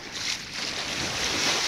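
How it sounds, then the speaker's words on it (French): Waves breaking on a small river beach, a steady broadband wash of water that swells slightly and stays continuous, with wind noise over it and no voices. "Les vagues sont plus fortes."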